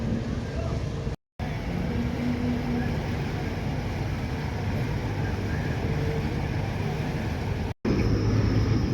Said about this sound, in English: My ferry is arriving.